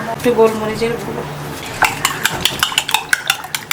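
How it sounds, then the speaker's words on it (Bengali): Three eggs with salt, spring onion and pepper are beaten in a bowl, making a quick, rhythmic clatter of utensil against the bowl; someone speaks briefly before the beating starts. "এবার 3খানা ডিম আমি এর মধ্যে ফেটে দিয়ে দেবো।"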